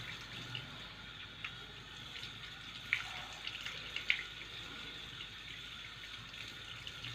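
Water pours quietly while feet are washed during wudu, a soft continuous trickle and splash with a few brief louder drips, faint and close.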